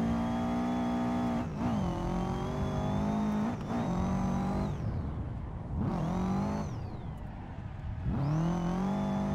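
A turbocharged Subaru drift car in Assetto Corsa howls up a mountain road, its engine revving hard and dropping sharply at repeated gear changes, loud and close throughout.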